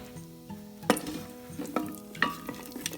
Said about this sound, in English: Let the asafoetida also get fried a little bit.